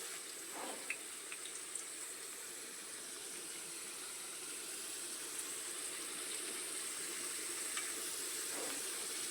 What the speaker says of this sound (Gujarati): કેવી રીતે તળે છે વેફર